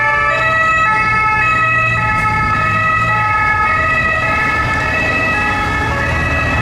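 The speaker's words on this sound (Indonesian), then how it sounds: "Yuhu, keluarlah mobil ambulan." A toy ambulance blares a loud electronic siren that wails continuously and close up, with no pauses and no voices.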